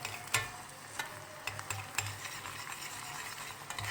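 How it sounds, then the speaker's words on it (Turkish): Tomato paste frying in a pan while being stirred, a soft continuous sizzle broken by sharp scraping clicks of the utensil against the pan, close and moderately quiet with no voices. "Domates salçamızı ekliyoruz. Çok fazla tutmayacağız yoksa domates salçası yanar."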